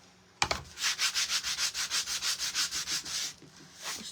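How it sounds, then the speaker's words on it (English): Rhythmic back-and-forth sanding of repurposed plywood, about fourteen steady rasping strokes close up, starting after a sharp knock and fading near the end. "That's why I'm sanding it, just to get it smooth."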